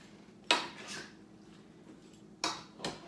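Chicken fajita ingredients with peppers being mixed in a crockpot: two pairs of sharp utensil clacks against the pot, separated by quiet stretches of faint rustling.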